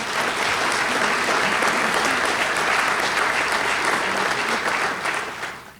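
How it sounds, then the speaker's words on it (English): An indoor audience at a city event applauds board members of a business improvement district, a dense, steady clapping that holds evenly for several seconds before tapering off at the end. "if we could give them a round of applause"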